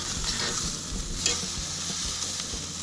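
Steaks sizzling on a Napoleon Phantom gas grill right after being flipped: a loud, close, continuous hiss and crackle with a brief louder flare partway through.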